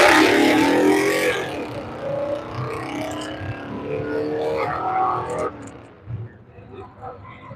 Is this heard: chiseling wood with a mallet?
no